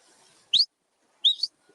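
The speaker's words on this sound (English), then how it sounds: "the whistling's hurting my ears" On a Coast Guard boat, two short, piercing high-pitched whistle bursts ring out about half a second apart, the second slightly longer and wavering, with near silence in between.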